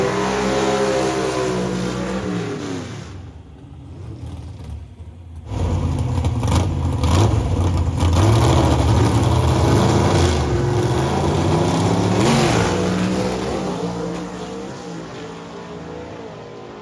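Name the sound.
1951 Henry J gasser drag car engine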